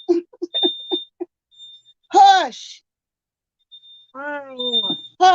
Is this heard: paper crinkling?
no